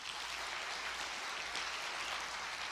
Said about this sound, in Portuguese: Você pode glorificar Deus com uma salva de palmas?